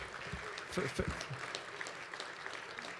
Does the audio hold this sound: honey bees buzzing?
no